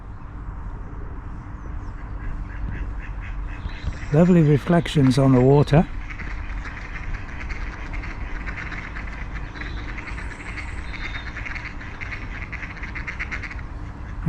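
Ducks quack on a quiet Monmouthshire and Brecon Canal near Brecon Basin in January, a short burst of several nasal calls mid-clip over steady outdoor ambience, with someone speaking briefly.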